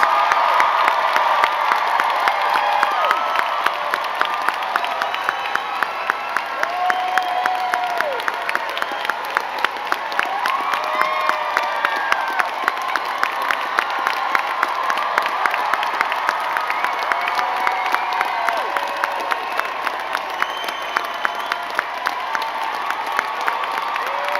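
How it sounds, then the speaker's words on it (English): A large crowd at the NYU Class of 2023 graduation ceremony applauds and cheers the graduating MSW students, with loud sustained clapping and scattered whoops and shouts rolling on for over twenty seconds. "Please give a round of applause for all of our graduating students."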